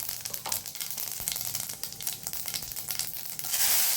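Cumin and mustard seeds sizzling in hot oil make a dense, crackling spatter that runs steadily close-up, with the hiss swelling louder near the end.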